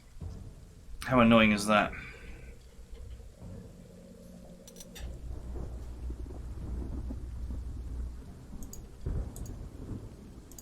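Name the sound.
rain and thunder in video game Panzer Corps 2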